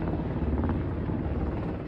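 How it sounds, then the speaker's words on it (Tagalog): Military helicopters moving during martial law in South Korea, a steady, dense rotor and engine roar that stays loud and continuous throughout. "Rumonda ang mga tangke at helicopter"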